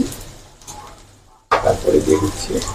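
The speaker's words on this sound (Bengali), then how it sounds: "পেঁয়াজ কুচিগুলো হালকা ব্রাউন কালার করে ভেজে নিতে হবে।" Chopped onions and green chilies frying in a pan while bitter gourd is cooked, a quieter stretch giving way to a louder burst of sizzling and stirring from about halfway, with no talk.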